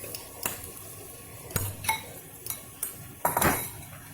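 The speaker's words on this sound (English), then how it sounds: "now I am going to add the marinated prawns in it" Marinated prawns tipped into a spiced masala on a tawa and stirred with a metal spoon, giving several sharp scrapes and clinks against the pan spaced irregularly, close up, over a faint background sizzle.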